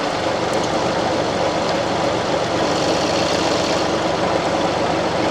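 Tractor engine idling steadily at close range while driving the PTO for a flail mower, a loud continuous rumble with no break in level.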